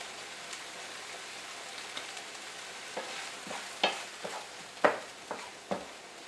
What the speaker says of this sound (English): Once our turkey is nearly all the way brown